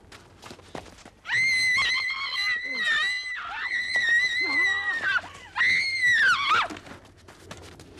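A 19-year-old woman screams repeatedly during a late-night street attack on Victoria Road in Berkhamsted, with loud, sustained, high-pitched shrieks in several long bursts over faint background noise.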